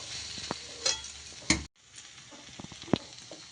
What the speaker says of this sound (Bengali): এবার আমি মশলাটা ছড়িয়ে দেবো, ভাজা মশলাটা।